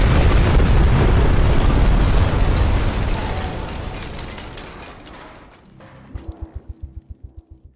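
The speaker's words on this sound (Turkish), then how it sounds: "Maalesef Fox'un yanlış yerde yattığından bomba dibinde patlıyor ve şarapnelerden bir tanesi bacağına giriyor" Bomb blast in the video game Payday 2: a loud, sustained broadband roar that tails off over several seconds, followed by a short run of quiet rhythmic thuds near the end, with no voices.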